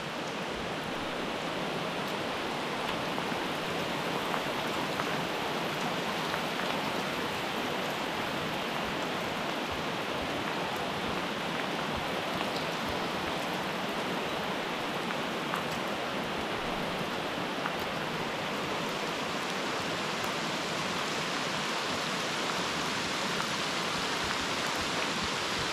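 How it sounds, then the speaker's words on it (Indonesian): Steady, dense rain falls at a riverside campsite, a continuous loud hiss with no breaks and no voices. "Cuaca pun dah hujan."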